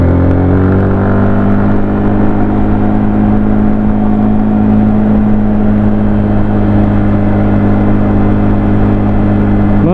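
A motorcycle rides along an airport runway at Bukidnon Airport, its engine holding a steady, loud, close drone with a firm low hum for the whole stretch and no other sounds on top.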